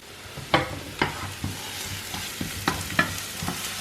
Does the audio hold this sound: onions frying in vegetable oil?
yes